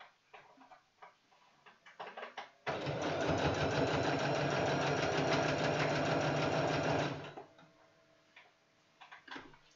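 A sewing machine stitches a fabric seam on a drawstring pouch in one loud, continuous run of rapid ticking lasting several seconds, framed by quiet clicks of handling before and after.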